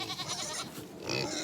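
Pigs at an automatic nipple waterer fitted to a 50-gallon barrel on a farm, giving close, loud bleating squeals and grunts that run together over a second and a half.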